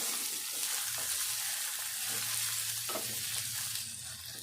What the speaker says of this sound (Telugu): కొంచెం దోరగా వేగితే మంచిగా ఉంటుంది